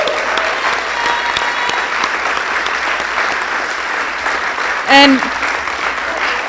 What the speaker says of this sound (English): please give us a huge round of applause